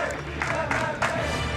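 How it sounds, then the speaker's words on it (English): A large esports audience at a StarCraft 2 grand final in WCS Europe 2014 chants MMA in rhythmic bursts, a roaring crowd with repeated swells and a commentator's voice mixed in. "Crowd chanting MMA there"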